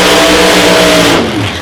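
Chevrolet Corvette drag car roaring loudly down the track during qualifying, engine at full revs for a short burst before easing off as it pulls away.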